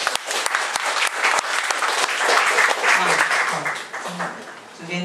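A studio audience applauds at a Taiwanese talk-show panel on environmental issues, a dense steady clapping that runs for several seconds and swells in the middle.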